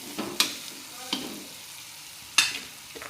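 Masala sautéing in a generous amount of oil before bitter gourd goes in, a low sizzle broken by three or four sharp spatula scrapes against the pan, close and with no talking.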